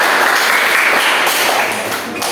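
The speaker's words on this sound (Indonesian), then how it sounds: "Beri tepuk tangan dulu." Loud classroom applause during a microteaching lesson on Islamic ethics, a burst of many students clapping together that fades slightly near the end.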